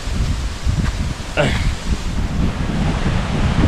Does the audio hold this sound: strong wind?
yes